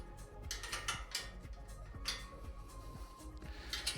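Tightening bolts on the rear basket and fenders of an Actbest Triker ebike: repeated metallic ratcheting and clicking tool sounds at close range, fairly quiet and steady, with no talking.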